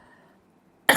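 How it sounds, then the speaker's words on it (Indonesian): A single sharp cough bursts out near the end, loud and close, after near silence. "maaf saudara saya masih ya batuk"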